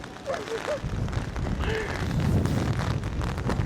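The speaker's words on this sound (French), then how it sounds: "Le vent est vraiment très très fort là" Very strong wind buffets the microphone outdoors in rainy weather in the Netherlands, a loud rumbling roar that builds and keeps going, with a person speaking over it at the start.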